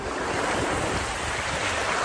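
Continuous rushing surf and wind noise at Tahusan Beach, a broad steady wash of waves with no voices, close and fairly loud throughout.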